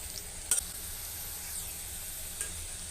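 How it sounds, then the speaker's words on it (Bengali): Potato pakoras fry in oil over medium heat, a faint continuous sizzle broken by a brief utensil knock and one lighter tap, quiet and with no talk. "চুলার হিট মিডিয়াম রেখে পাকোড়াগুলো ভাজতে হবে"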